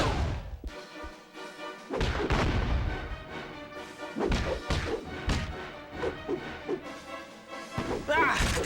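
Repeated flash grenades burst in a Spider-Man movie video game, loud thumping blasts and crashes arriving in irregular clusters over a dense game soundtrack.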